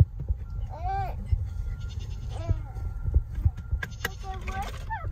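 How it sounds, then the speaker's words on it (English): Several goat bleats on a farm, wavering and nasal, rise over a steady low rumble of background noise and murmuring voices, some near and some farther off. "The goats have stuff they would like to say as well."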